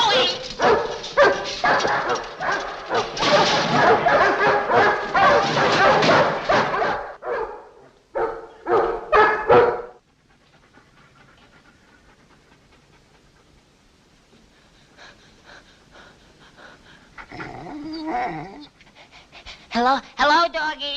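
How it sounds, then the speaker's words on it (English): Dogs panting and yipping close by with a few whimpers and barks, loud at first then dropping to faint breathing and rustle, rising again near the end, with a voice speaking over parts of it. "Hello, doggies."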